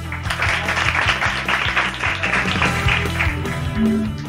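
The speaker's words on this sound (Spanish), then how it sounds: "Un fuerte aplauso para El Adaja." Applause from a studio audience on a Spanish radio programme, welcoming guests from Arévalo; steady clapping over a background of music, at a moderate, even level.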